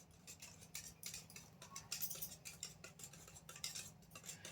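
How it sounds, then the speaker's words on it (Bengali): A spoon stirs homemade mango milkshake, its quick clinking taps against the glass or bowl repeating steadily throughout, close and fairly quiet, with no voices. "ভালো করে এটাকে গুলিয়ে নেব"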